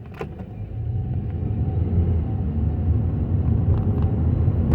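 Continuous low road rumble inside a moving car, with occasional knocks and rattles from potholes in rough pavement.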